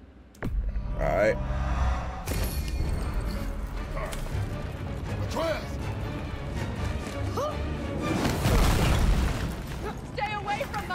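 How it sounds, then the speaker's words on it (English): Fiery explosions from Kratos's Chaos stance in the God of War video game, a series of loud booming bursts and crashes layered over dense game music and effects. "Chaos creates a minor fire explosion."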